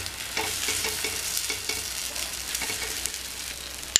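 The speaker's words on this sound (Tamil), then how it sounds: "ஒரு சைடு வெந்துடுச்சு, திருப்பிக்கலாம்" Paniyaram sizzle steadily in oil in a pan after being flipped, a close continuous frying hiss with light scraping taps throughout and a sharp clink at the end.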